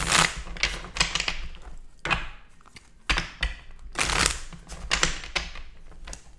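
Tarot cards being shuffled by hand during a collective reading, giving bursts of crisp riffling and slapping clatter that come in irregular waves, close and fairly loud, with no talk.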